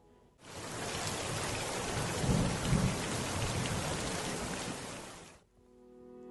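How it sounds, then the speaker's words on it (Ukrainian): Steady heavy rain pours with low rumbles of thunder swelling in the middle, then the sound cuts off abruptly near the end. "Запрошує вас послухати звуки дощу."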